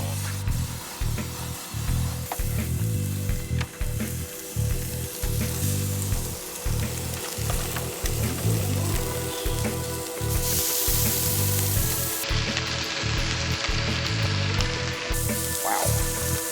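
Meat sears over flames during a camping trip with a steady frying sizzle and a rapid, regular low pulsing from the burner. A brief high hiss cuts in near the end, with no clear talking.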